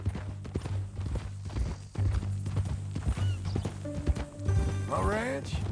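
Horse hooves clip-clop in Red Dead Redemption 2, a steady rhythmic trot under a low musical drone, with a brief whinny-like rising call near the end.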